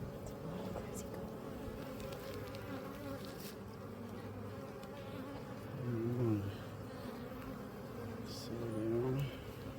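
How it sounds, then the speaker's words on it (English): A swarm of honey bees buzzes steadily around a hive box outdoors, a dense continuous drone that swells in loudness twice. "I noticed the bees are getting a little bit more active."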